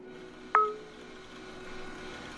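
A phone gives a single short, clear SMS notification beep, followed by a faint ringing tail over a quiet room tone.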